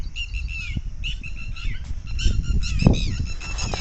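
Several birds calling with honking, squawking cries over a rumbling background, some wing flaps mixed in, fairly close.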